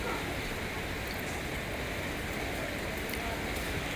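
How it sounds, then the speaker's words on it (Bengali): Light drizzling rain falls steadily outside as vehicles pass by below, a soft, even hiss of fine drops that stays constant throughout with no one speaking. "আর কত সুন্দর ঝিরিঝিরি বৃষ্টি।"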